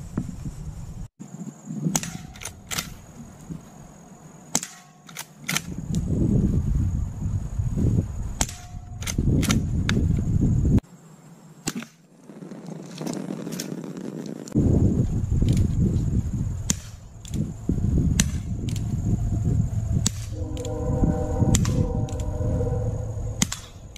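Umarex Colt SAA revolver and Legends Cowboy Rifle airguns fire a series of sharp single cracks spaced a few seconds apart, each shot followed by mechanical clicks and handling noise, recorded outdoors.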